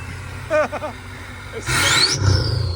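A 2003 Ford F-350 Lariat pickup's 6.0L Powerstroke diesel revs loud and close, a sustained rising roar with spooling whine. Brief voices come first, then the engine swells and holds.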